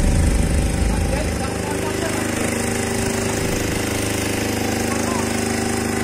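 Small 8 kVA generator set powering stage monitors and a line array at an event, a steady droning engine hum with mechanical rattle, louder at first then settling into an even, continuous run.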